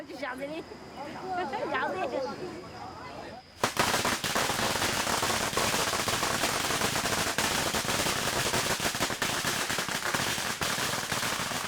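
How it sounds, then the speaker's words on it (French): After a voice speaks briefly, a long dense string of firecrackers set off to inaugurate a temple on the Sichuan-Tibet Highway crackles and pops loudly and rapidly without a break. "Des pétards sont tirés pour inaugurer le temple."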